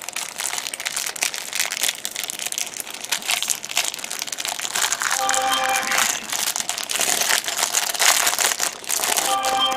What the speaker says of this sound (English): It's in a little plastic bag